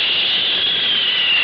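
Airplane flying overhead as a sound effect in a vintage radio serial: a steady, loud jet-like roar held unbroken for over a second.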